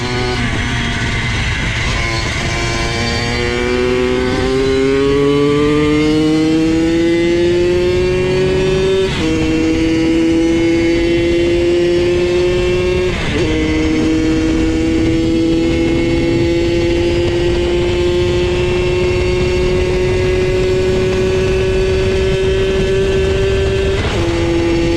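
A rebuilt 20 hp Suzuki PV50 motorcycle engine runs loud and close, holding a steady drone as it climbs through several rising revs with brief shifts between them.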